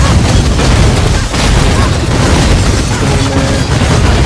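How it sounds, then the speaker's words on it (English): A corpse detonates in a video game as a Dual Claw Molten Strike Ranger fights, loud continuous blasts and rumbling bursts packed together over several seconds with no clear speech. "it takes a couple seconds for it to detonate dead"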